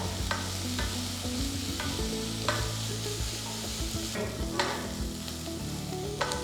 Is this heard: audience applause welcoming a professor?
no